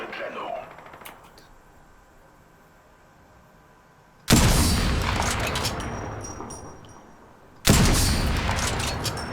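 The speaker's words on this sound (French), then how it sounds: "je canarde sur les mecs qui sont dans la ville" Bursts of gunfire in the battle royale video game Apex Legends, two loud sustained volleys of rapid shots, the first starting abruptly and trailing off over several seconds, the second hitting near the end after a quieter stretch.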